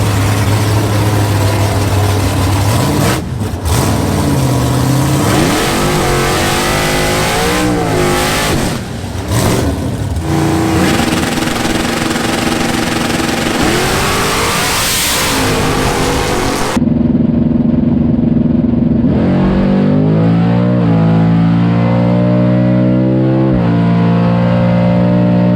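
A race car at LS Fest 2020 accelerates hard down the track, its engine revving loud and close with rising, roaring pulls and gear changes over about twenty-five seconds of continuous engine noise.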